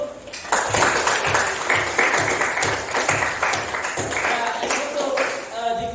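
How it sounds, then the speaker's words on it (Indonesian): A classroom of students claps together in a lively burst of applause that carries on steadily for several seconds, with voices mixed in under the clapping. "kasih tepuk tangan dulu"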